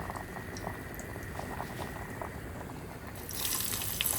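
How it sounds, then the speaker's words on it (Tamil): Whole spices such as cinnamon, cardamom and cloves sizzling in hot oil for a Tamil paya dish, a steady close crackle and hiss that grows louder and brighter near the end. "இப்போ பாருங்கள், தாளிக்க போகிறேன்"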